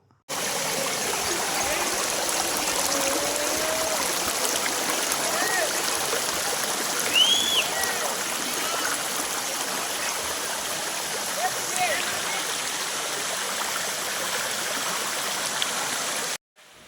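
Kona waterfall pouring in a steady, full rush of water that holds evenly from start to finish, close and loud, with no voices over it.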